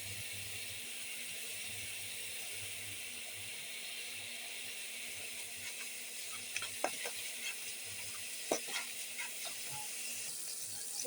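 Salt and turmeric hit a pan of frying spices, producing a quiet, even sizzle and hiss, with a few faint stirring clicks and scrapes in the latter half.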